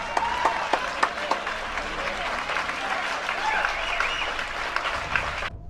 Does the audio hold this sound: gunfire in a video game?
no